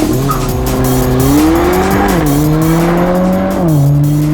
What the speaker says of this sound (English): That's got to be one of the loudest four cylinders out there.